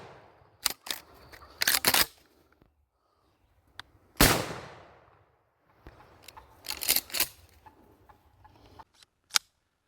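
A gunshot rings out during a wild turkey hunt in late-season Wisconsin, one sharp loud blast with a decaying tail, set among scattered clicks, rustles and handling noises.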